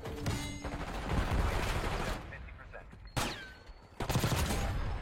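Rapid bursts of weapon fire in a video game crackle in dense volleys with sharp cracks between them, loud and busy against a steady combat background.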